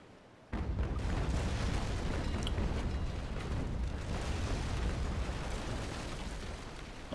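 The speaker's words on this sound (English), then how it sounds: "Get a nice raking shot on Caracho's stern here" A cannon volley fired as a raking shot into a ship's stern in the Naval Action sailing game, a sudden loud rumbling barrage that holds steadily for several seconds with no talk.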